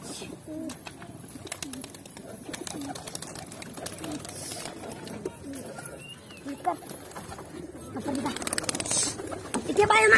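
Pigeons coo repeatedly nearby while people talk over them, with a busy background of flapping and shuffling.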